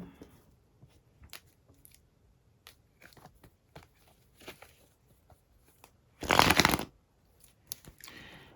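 A deck of cards is shuffled close by in one dense riffling burst lasting under a second, with faint scattered clicks and handling taps before and after in an otherwise quiet room.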